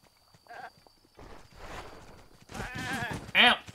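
A goat in the video game Zelda Breath of the Wild bleats in short wavering cries, the loudest near the end, over light footstep-like clatter and faint game sounds.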